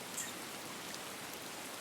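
Steady rain falls as a dense, even hiss of drops with no distinct pattern, soft and continuous throughout, with no voices.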